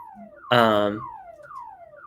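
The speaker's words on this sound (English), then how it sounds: "So I know there's like there's like an alarm over here somewhere." A cockpit alarm in the Microsoft Flight Simulator video game: a loud, buzzing electronic tone lasting about half a second, followed by several repeated falling, whooping tones that continue at moderate volume.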